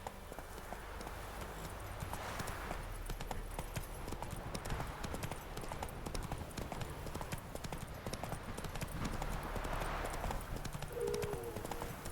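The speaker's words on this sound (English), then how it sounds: "Whoa there, Roach" Hooves clip-clop steadily as a horse trots along in a video game, a continuous rhythmic patter with a brief whinny near the end.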